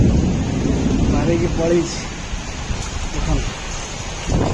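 Rain pours steadily during a Kalbaisakhi storm in Bhubaneswar, with low rumbles of thunder and gusts beneath the dense hiss and a brief voice in the middle.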